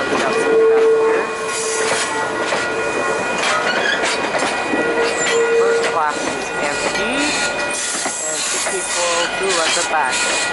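VIA Rail passenger train 87 passes nearby at night, a steady loud rumble of rolling cars with clattering wheels and brief squeals, while people talk over the noise.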